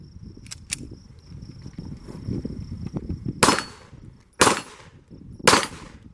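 Smith & Wesson M&P 2.0 Competitor pistol firing 70 grain Federal rounds at an outdoor range, three sharp, loud shots spaced about a second apart over steady background noise, with a couple of fainter metallic clicks earlier.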